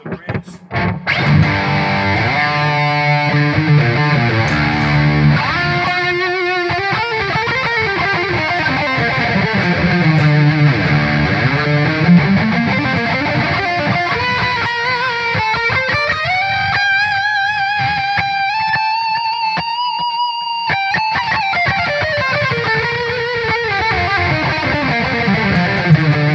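Heavily distorted electric guitar, a Washburn USA Custom Shop with Bare Knuckle Cobra T bridge pickup on a lead channel, played alone: chugging low riffs giving way to sustained, bending lead notes, loud and close.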